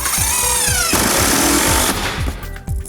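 A power driver sets screws into faux brick wall panels with loud, close, rattling bursts, and the motor cuts off briefly between runs.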